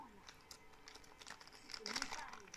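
Plastic packaging around small action figure weapons being unwrapped up close, with crinkly rustling bursts that grow louder toward the end while a voice talks over them.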